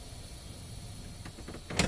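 A truck's air parking brake releasing: a quiet cab hum, then a short, sharp burst of hissing air near the end.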